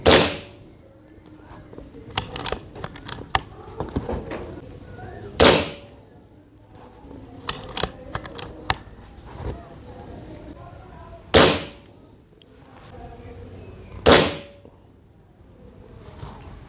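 Shots from a Vertigo Carbine PCP airgun: four sharp, loud cracks spaced several seconds apart, with smaller clicks and handling noises and occasional talk between them.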